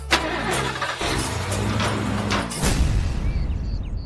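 A car engine starts with a loud cranking burst and catches, settling into a steady running hum before revving up again near the end, close and loud, with no talk over it.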